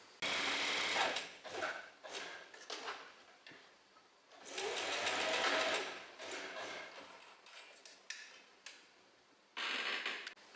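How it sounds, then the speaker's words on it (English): A sewing machine stitches thin folded fabric straps in several bursts of rapid mechanical whirring, close and distinct, separated by short quiet pauses. "I'm just gonna fold in half and sew them really, really thin"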